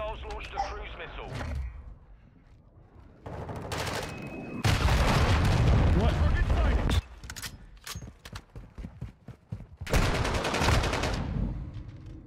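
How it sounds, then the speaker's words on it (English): Cruise missile strike in a Call of Duty game: heavy booming blasts with sustained rumbling roar, interleaved with sharp gunfire cracks and bursts, loud and close, with game voice callouts heard between the impacts. "Hostiles launched a cruise missile."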